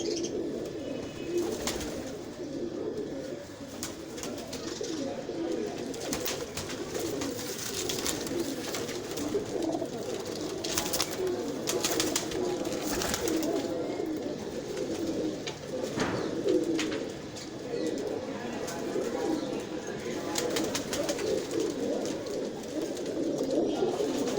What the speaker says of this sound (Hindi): इनमें बड़े बड़े अच्छे कबूतर हैं।